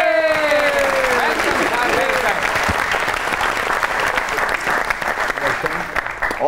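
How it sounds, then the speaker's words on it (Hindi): Studio audience clapping at a Pakistani variety show as a guest is introduced, a dense continuous round of applause that fills the room and tapers slightly toward the end, with a brief musical sting at the start. "आपकी बहुत सी तालियों में जनाब खलीलुर रहमान कमर।"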